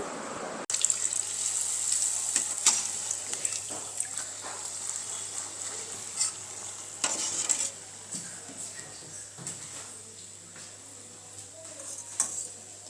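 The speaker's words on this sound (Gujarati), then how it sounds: "તો તેમાં આપણે આ ખાખરા પૂરી તળાવવા માટે રાખી દઈશું" Tal khakhra puris sizzle in hot oil in a village kitchen, a soft continuous frying hiss with intermittent louder crackles and occasional utensil clinks, fairly faint overall.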